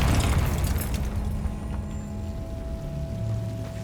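A Confringo fire spell explodes in the Hogwarts Legacy video game, giving one loud, deep boom at the start that rumbles and fades slowly over several seconds, with a steady low tone lingering underneath.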